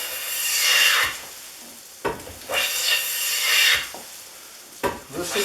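A Stanley No. 5 1/2 jack plane takes long shavings off a narrow cherry board, giving four broad hissing rasps with short pauses between them, close and moderately loud, with no talk.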